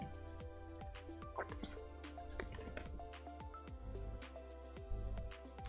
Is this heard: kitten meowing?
no